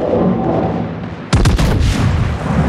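Naval guns of the battleship Kii fire a single heavy salvo in World of Warships on the Neighbors map, a sudden loud booming blast that breaks a quieter engine rumble and rolls on afterward.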